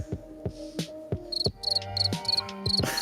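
Crickets chirp in quick repeated pulses, layered with sharp clicks and knocks, fairly close and clear.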